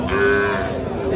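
A cow at the Raniganj cattle market, where Friesian and crossbred bulls and calves are sold, gives one loud, close, sustained moo lasting the whole moment.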